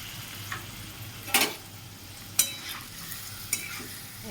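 Spice paste and softened tomatoes stir-fried for a soybean curry, a low steady sizzle broken by three sharp spatula scrapes against the pan, close and alone.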